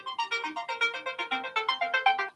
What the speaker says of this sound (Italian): Andiamo a rispondere alla prima telefonata.